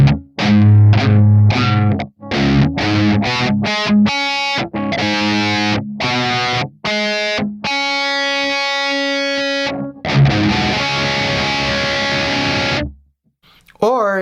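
Distorted electric guitar plays the chord, struck repeatedly in a run of short stabs and then longer ringing chords, loud and close, with a quick decay into silence at the end.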